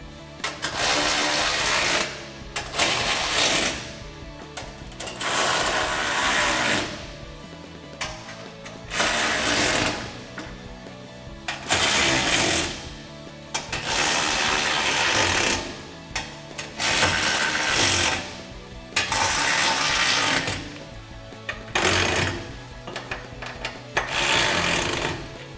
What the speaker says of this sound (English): we can go ahead and tighten everything down for the final tightening